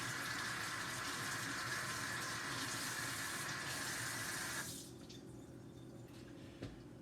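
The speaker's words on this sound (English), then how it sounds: "I'll rinse it off." Kitchen tap water runs steadily and loud while something is rinsed off, then shuts off abruptly about five seconds in, leaving a quiet room with one small knock.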